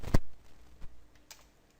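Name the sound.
typing on a computer keyboard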